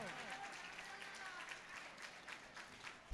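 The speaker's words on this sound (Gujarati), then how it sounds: "તો તાળીઓના ગડગડાટથી વધાવો." Applause from an audience at a Bhagavat katha gathering in a village, a steady wash of clapping that stays faint and distant throughout, with a voice speaking over it.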